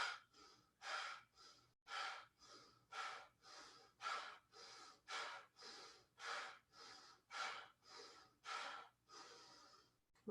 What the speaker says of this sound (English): and breath of fire